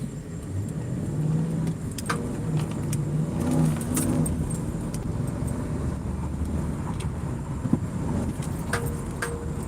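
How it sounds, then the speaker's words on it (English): A car without open pipes rumbles with a steady, fairly loud engine note that swells slightly as it is revved, with a faint metallic jingle early on. "you want to hear the car roar?"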